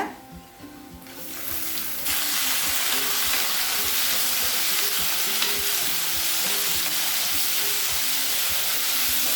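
Tomatoes hitting a pan of well-sautéed onions for a tomato kurma, a sudden loud burst of frying sizzle after a quieter opening, then steady close crackling with stirring scrapes and no talk.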